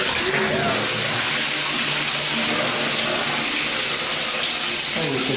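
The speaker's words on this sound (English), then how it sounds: "Let's check the water pressure. That's the hot water." Hot water running hard from a tap in an apartment, a loud steady gushing roar that fills the whole span without pause.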